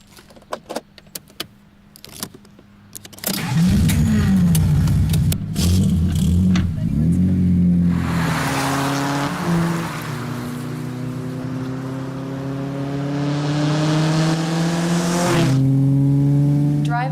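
A Z sports car rumbles and revs while driving, following a few clicks and clatters, with the engine note climbing and shifting through gears, loud and close from inside the car.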